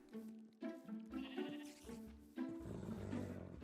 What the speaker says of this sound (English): Seriously, are you going to murder a baby sheep?